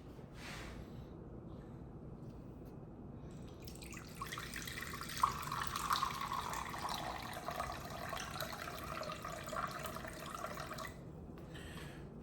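Kava mixed at about 4 ounces to a gallon of water runs from the spigot of a Kavafied Magic Kava Bucket in a steady, close, continuous splashing stream that lasts about eight seconds and comes with no talk.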